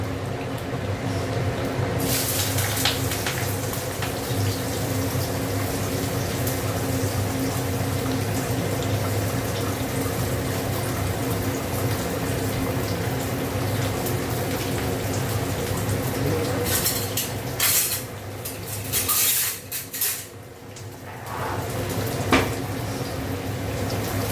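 Potatoes, bitter gourd and onion frying in a pan, a steady close sizzle that runs throughout with a few louder clatters and scrapes toward the end.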